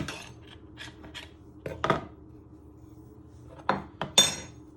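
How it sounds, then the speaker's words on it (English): A knife stirs dry muffin ingredients, flour for banana and chocolate chip muffins, in a bowl: soft scraping and rubbing with several sharper clinks of the blade against the bowl, close up, no talking. "with your knife, you just want to give that a little bit of stir in"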